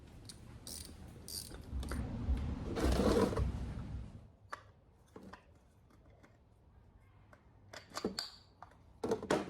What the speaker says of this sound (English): I figured I'd just go ahead and change the oil filter while I'm here